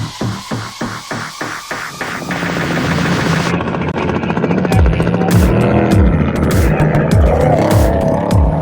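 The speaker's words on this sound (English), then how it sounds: "See the helicopters coming through" Helicopters fly over the 2021 Mint 400 desert race. A steady rhythmic rotor thumping comes first, then it gives way to a loud, continuous roar with engine tones that rise and fall.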